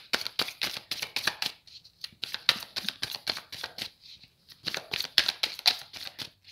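A deck of tarot cards is shuffled by hand in several quick riffling bursts, separated by short pauses, close and fairly loud with no talking.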